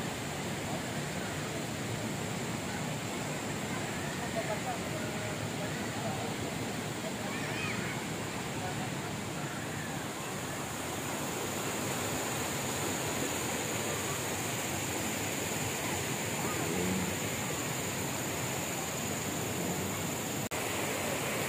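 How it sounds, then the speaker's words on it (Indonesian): A river rushes steadily past a campsite at Jeram Ngenjur in Batang Kali, Malaysia, a constant broad hiss of flowing water with faint voices now and then in the background. "Tu sungai ya."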